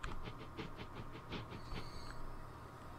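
Slow-moving train in the Transport Fever game, a steady rolling rumble with faint rhythmic clicks and hiss, moderately quiet and heard alone.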